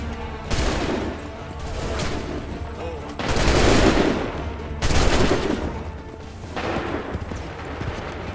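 Musket volleys crack out in a historical battle scene from Assassin's Creed 3, with repeated loud bursts of massed gunfire rolling in waves, some overlapping with shouted commands and battlefield din.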